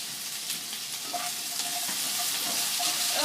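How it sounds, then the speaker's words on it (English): Broccoli stems for a vegan cheddar broccoli soup cook in a pot, giving a steady, moderately quiet sizzle and bubbling hiss throughout with no voices. "So our broccoli stems are getting to be pretty well cooked."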